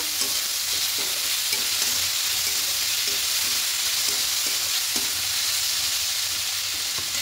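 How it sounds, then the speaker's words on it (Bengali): Pumpkin pieces frying in a pan over a medium flame while being stirred, a steady dense sizzle with faint scraping strokes of the spatula recurring throughout. "খুলে নেব, একটু নাড়াচাড়া করে নেব"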